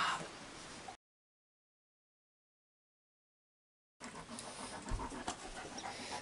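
Dog panting in short rapid breaths, near and fairly quiet, in two stretches separated by a gap of silence.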